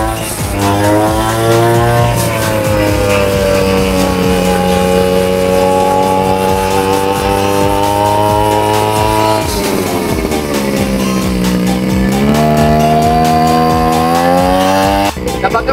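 A Nishikawa NBC-338 brush cutter with a 35 cc two-stroke engine runs loud and close for the whole stretch, holding a steady buzzing whine that sags in pitch and then climbs back up twice before cutting off abruptly.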